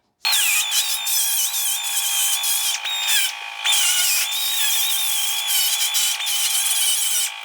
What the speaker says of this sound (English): I need to take a Dremel and kind of clean up these corners a little bit